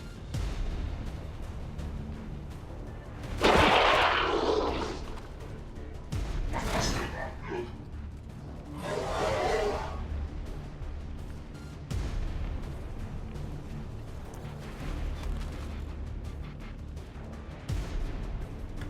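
Turret gunfire in the tactical game XCOM 2, several heavy bursts and impacts spread over a steady rumbling battle background, fairly loud and close with some distant shots.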